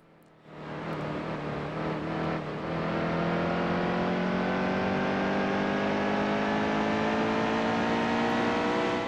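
NASCAR stock cars race at New Hampshire Motor Speedway in the NASCAR Heat 2 video game, with a loud, steady engine roar and whine that swells after a brief quiet start and holds throughout.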